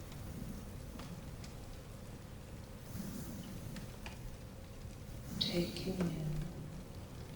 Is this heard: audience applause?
no